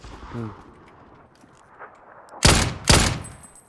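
Two loud, sharp bursts of gunfire ring out in a PUBG match, close together and standing out over a low background of game noise and a brief voice.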